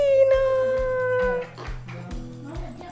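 A fluffy cat gives a long, drawn-out meow, then quieter short calls follow, close up, with a steady low rhythmic hum underneath.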